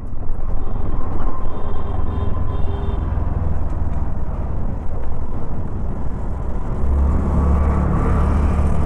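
A Hero Destini 125 scooter with i3s idle stop-start runs at a steady low idle close by, its even engine hum continuing, then the engine cuts off as the i3s system shuts it down.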